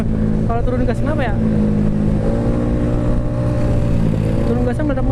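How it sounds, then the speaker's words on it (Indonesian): A Honda Vario motorcycle riding on a highway backfires with a few sharp pops as the throttle eases off, over a steady, loud engine drone and wind rush. "Turun gasnya meledak-meledak coy."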